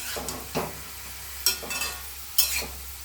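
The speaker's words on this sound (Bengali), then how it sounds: "চিংড়ি মাছগুলো দিয়ে দিলাম, ভালো করে নাড়িয়ে নিচ্ছি।" Prawns frying with greens in a pan, stirred in several distinct bursts of scraping and sizzle over a steady low hiss, close and moderately loud.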